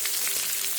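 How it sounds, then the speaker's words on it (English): Stuffed meatballs of mozzarella and spinach sear in a hot pan, giving a steady, close sizzle and frying crackle that runs through the whole short stretch with no talk. "So I'm frying this up some before I put it in the oven."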